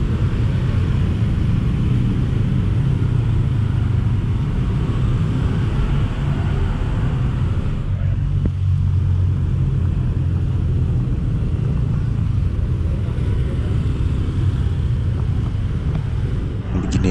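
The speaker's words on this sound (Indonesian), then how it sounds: "Hanya ramai lalu lalang kendaraan bermotor saja" Motor vehicle traffic on a street in Semarang Old Town at midday. The engine rumble and road hiss are continuous and fairly loud, with wind buffeting the microphone throughout.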